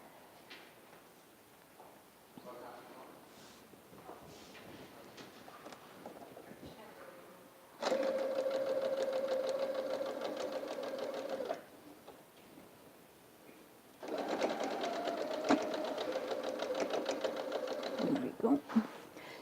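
A sewing machine runs in two steady bursts of several seconds, stitching quilt pieces, with quieter handling sounds between the runs and no talking.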